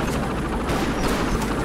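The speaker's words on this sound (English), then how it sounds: "Oh my god, they shot him!" Rapid gunfire in the video game Road 96, a dense volley of sharp shots over rumbling low noise, loud and continuous for a moment.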